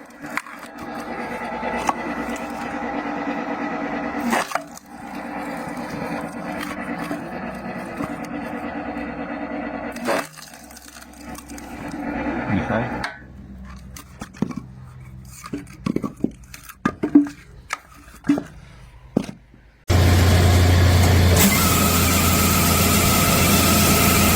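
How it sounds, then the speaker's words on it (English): Large hydraulic log splitter tearing apart a giant tree trunk, with a steady engine drone, creaking and cracking wood in irregular bursts, then a loud constant mechanical roar toward the end. "log splitter operates with a smooth and powerful rhythm"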